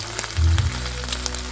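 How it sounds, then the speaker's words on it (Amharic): Bean and rice batter sizzles as it hits hot oil in a frying pan, a close, brief burst of frying that settles into a soft crackle. "አዘጋጀነውን ይሄን የቦሎቄ የራይዝ ጥብስ እንግዲህ ሊጥ ወደ መጥበሻው ላይ እንጨምራለን።"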